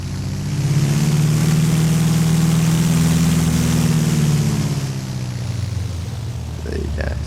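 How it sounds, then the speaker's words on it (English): A Beechcraft A36 Bonanza piston engine in X-Plane 10 runs loud and steady with a low droning hum, slowly rising then easing off as the throttle is cracked, with a few brief clicks near the end. "Just crack the throttle a little bit. And listen to that engine"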